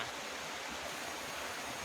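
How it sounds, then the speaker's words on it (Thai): White water rushing down into a green, clear-water canal amid nature makes a steady, faint, broadband wash of flowing water with no breaks. "จุดนี้ก็จะเป็นคลื่นน้ำสีขาวนะฮะที่ไหลลงมา"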